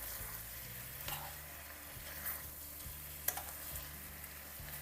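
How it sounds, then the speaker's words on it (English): Chicken cooked with sauces is stirred in a pan for teriyaki chicken: soft sizzling with repeated scraping stirs and an occasional utensil tap, quiet and close, with no talk. "Let's mix first with the sauces that we added."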